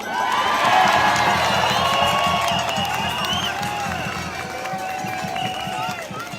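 Crowd at a Melbourne protest against pandemic law cheers and applauds as a speaker is introduced, a steady wash of clapping and shouts, loud at first then easing slightly, with a voice coming through over it.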